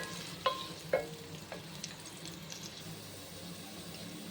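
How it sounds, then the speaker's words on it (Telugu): Onions frying in a pot for a chicken gravy curry, a low steady sizzle with a few clicks and scrapes from stirring, quiet and close, no voices. "మనకి ఈ ఉల్లిపాయలు అనేది బాగా మంచిగా గోల్డెన్ కలర్ వచ్చేంత వరకు ఫ్రై చేసుకోవాలి."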